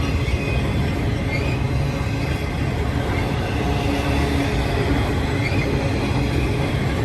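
Two trains run side by side at the same speed toward Cajon Pass, giving a loud, steady rumble of wheels and engines that fills the whole stretch without letup.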